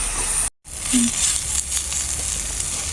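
Radish greens fry in hot oil with nigella seeds, salt and chopped green chili, giving a steady close sizzle and hiss broken by one brief gap of silence.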